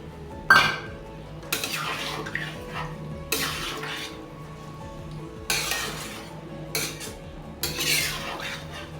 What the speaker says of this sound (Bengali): এবার আমি জলটা দিয়ে দিচ্ছি এক বাটি জল দিলাম